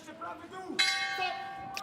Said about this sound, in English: Bell goes at the end of the second round